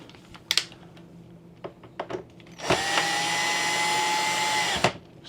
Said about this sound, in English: Snugging the screws.